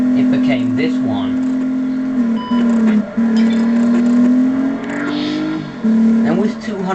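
An Alfa Romeo car engine with 240 brake horsepower and front-wheel drive, holding a loud, steady drone that rises and falls in pitch through gear changes, close and continuous, with a voice talking over it.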